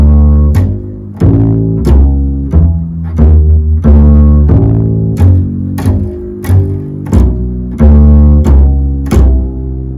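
Bass guitar walking through four bars with approach notes leading into each chord change, steady plucked notes on a regular beat, loud and close with no voices.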